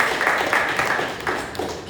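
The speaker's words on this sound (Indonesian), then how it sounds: "Tepuk tangan buat teman-teman semuanya." Applause from an audience at a service-excellence competition event for finalists, steady clapping at moderate volume with a few louder swells.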